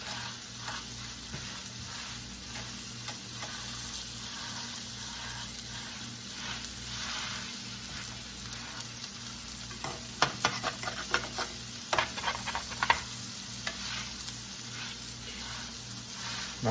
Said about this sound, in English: we're going to flip it here, and we're going to sear the other side